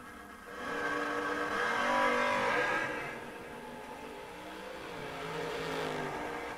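A Chevelle race car launches down the drag strip, its engine rising in a harmonic roar that swells, dips, then builds again as it pulls away at moderate distance, with no talking.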